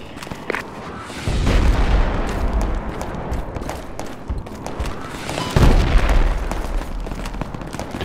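Distant gunfire and booming artillery in an infantry combat video game, with rumbling explosions and scattered rifle shots rolling across the whole stretch, two heavier blasts standing out, no talking.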